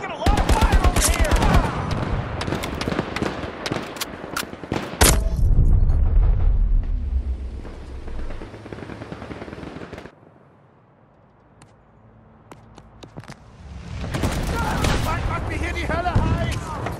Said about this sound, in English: We're taking a lot of fire over here!